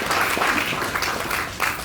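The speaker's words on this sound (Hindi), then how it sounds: "एक बार जोरदार तालियां होनी चाहिए।" A seminar audience at an IMC business program bursts into sustained, dense applause, many hands clapping continuously and fairly loud throughout.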